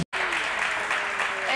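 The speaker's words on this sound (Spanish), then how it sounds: "Ese aplauso es para el pequeño elefante" Studio audience applause on a Spanish TV show, a steady dense wash of clapping that starts abruptly after a brief gap and continues evenly, with a voice faintly underneath.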